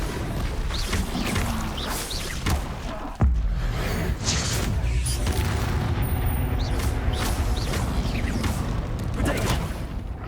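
Blasting spell explosions and crashing impacts in the Hogwarts Legacy video game during a dragon fight, loud and dense with repeated booms, a sharp blast near three seconds, continuing over a busy battle mix.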